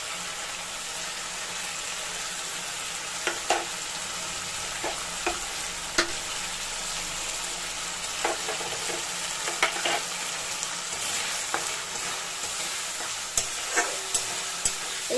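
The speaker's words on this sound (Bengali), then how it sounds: "এটা দিয়ে ভাজা ভাজা করে একটু তেলটা যেই ছেড়ে দেবে" Chilli powder and turmeric powder frying in hot oil in a pan for vegetarian ghugni, a steady close sizzle broken by occasional clicks and scrapes of a spoon stirring, with no voices.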